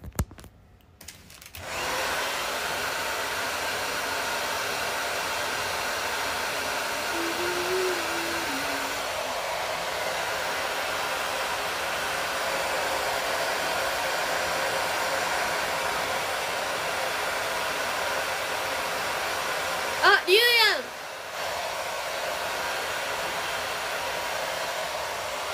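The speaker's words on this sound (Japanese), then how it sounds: "これはドライヤー配信斬新" A hair dryer blows steadily and fairly close during a live stream, a constant airy whir with a brief bump in pitch near the end, no talking heard.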